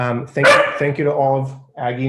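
A dog barks and yips during a city council special meeting held remotely, short barks overlapping and following a man's speech.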